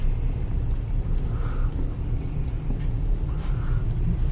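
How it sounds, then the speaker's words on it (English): A 2025 Toyota Tacoma TRD Sport hybrid pickup accelerating, heard from inside the cab as a steady low engine and road rumble with a faint rising turbo whine, and no talking. "And you can hear that turbo spooling too"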